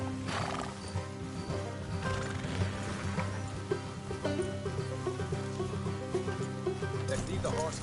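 Horses whinny and hooves clop over a dense, busy Red Dead Redemption 2 game soundscape with mechanical clicking, voices mixed in throughout.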